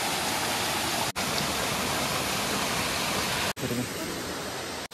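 Cold water from a mountain waterfall on the Parasnath Hill trek, a dense, steady rushing hiss filling the scene, loud and close, broken by two brief cuts.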